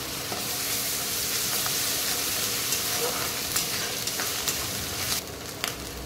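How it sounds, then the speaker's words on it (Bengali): Onion with garlic and ginger pastes frying in a pan give a dense, continuous sizzle, close and steady, with faint scraping from stirring now and then. "এরপর আমি পেঁয়াজ, এরপর আমি রসুন বাটাটা দিয়ে দিলাম, আদা বাটাটাও দিয়ে দিলাম"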